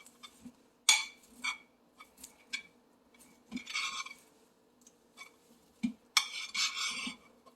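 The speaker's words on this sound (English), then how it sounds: "I'm just going to scrape down the sides of my bowl" A spatula scrapes the sides of a bowl of re-batched soap in short, irregular scuffs and clinks. It is close and fairly quiet, with small knocks between the louder strokes.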